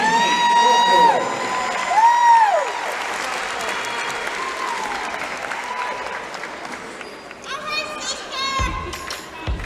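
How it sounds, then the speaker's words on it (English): Applause for sophomores at a women's college basketball game, a burst of crowd clapping and cheering in a gym that fades under an announcer's voice and squeaking whistles. "Let's give a round of applause for all of our ICC 2020 sophomores."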